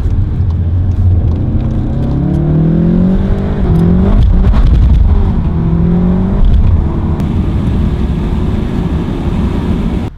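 A 2019 SEAT Leon Cupra's engine revs up with rising pitch several times, loud and close, the throaty roar climbing as it accelerates.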